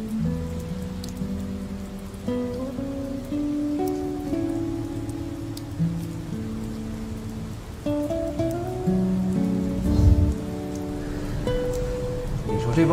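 Rain falls steadily across a city scene, a constant patter on surfaces heard under a soft musical score, with no talking.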